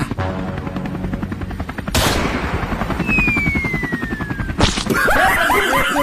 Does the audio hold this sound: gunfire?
yes